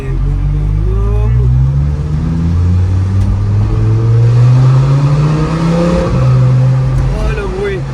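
A 1010 hp prototype supercar with a dual-clutch gearbox rumbles loudly up close, its engine rising and falling in low, throaty revs while people talk over it inside the car.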